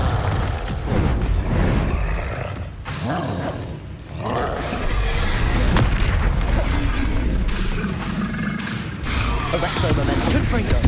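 Confringo fire blast spells from Hogwarts Legacy burst repeatedly amid dense combat noise, with booming explosions and roaring layered into a constant loud din as voices call out over the fight.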